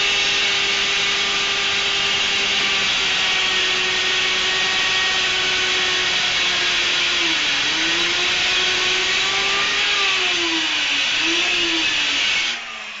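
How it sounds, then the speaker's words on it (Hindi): A tile cutter machine cuts through wall tile with a loud, steady whine that drones on for about twelve seconds, its pitch dipping slightly as the blade works, then cuts off abruptly at the end. "इस तरीके से आपको बिल्कुल कटर मशीन से ही आपको काम करना है।"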